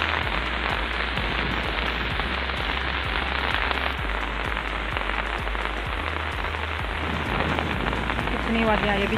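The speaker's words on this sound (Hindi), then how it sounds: "इतने जोरों की बारिश पड़ी जिसका कोई हिसाब नहीं।" Heavy rain pours down in a loud, continuous hiss during a sudden thunderstorm, drumming steadily on surfaces with no letup.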